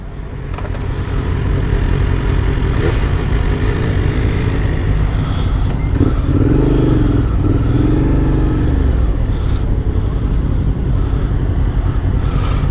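Loud, constant engine roar of BMW motorcycles close by, rising and falling as they rev, with a throbbing rumble throughout.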